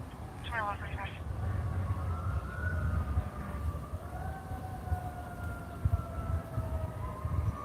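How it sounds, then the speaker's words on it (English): Several emergency sirens wail at a distance, their rising and falling tones overlapping steadily under a low rumble of background noise. "A lot of sirens."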